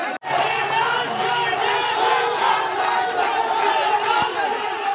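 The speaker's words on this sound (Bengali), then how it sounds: "নারী, পুরুষ, ছাত্র জনতা, অভিভাবক সবাই গিয়ে জড়ো হয়ে আনন্দ উল্লাস করেছেন।" A large crowd of men, women, students and parents gathered in Nazrul Square roars and chants in celebration, a loud, dense, continuous wall of cheering voices close at hand.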